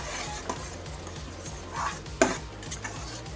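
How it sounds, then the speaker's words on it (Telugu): Roasted wheat semolina being stirred into boiling water for vegetable upma, a spoon scraping and sloshing steadily in the pot with soft bubbling, a sharper clink of utensil against the pan midway. "ఇప్పుడు మనం వేయించుకున్న రవ్వ వేసేసి కలిపేసుకుందాం."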